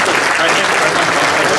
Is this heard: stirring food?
no